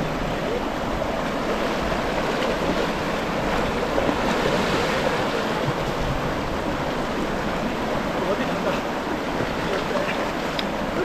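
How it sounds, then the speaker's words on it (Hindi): The icy Panchtarni river on the Amarnath Yatra route rushes in a steady, dense wash of flowing water, loud and close, with a constant rumbling hiss and no pauses. "जैसे कि देख रहे हैं पंचतरणी नदी है"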